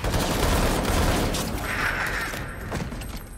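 Rapid bursts of gunfire from the Halo video game, dense and continuous at close range, with thumping low booms mixed into a busy battle soundscape.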